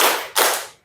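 A classroom group claps together in one counted round, a single broad burst of many hands that quickly fades out.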